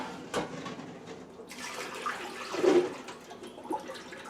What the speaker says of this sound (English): So dump that water out.